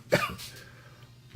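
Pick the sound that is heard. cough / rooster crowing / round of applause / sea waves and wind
cough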